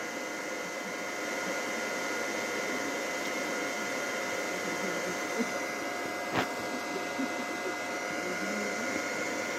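A Frecon 2.2 kW three-phase solar water pump and its drive run with a steady, faint whirring hum and a thin whine, a single brief click standing out partway through.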